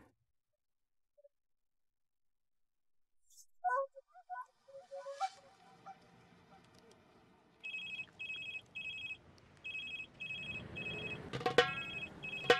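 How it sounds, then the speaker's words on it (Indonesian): A mobile phone rings with repeated bursts of short, bright electronic tones, starting partway through after some brief talk and background noise. "Itu HP kamu bunyi."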